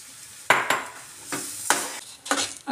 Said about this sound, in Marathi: आता जोपर्यंत हे घट्ट होत नाही त्याला तोपर्यंत चांगलं हलवत राहायचं